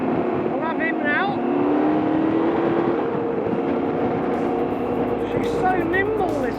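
Dennis motorbike engine under way on the road, a steady continuous drone that shifts pitch as the rider works through gears, heard close throughout.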